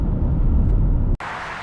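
A car on a road in southern Georgia, heard as a steady, loud, low rumble of driving noise that cuts off abruptly near the end and then resumes slightly brighter, with no one talking.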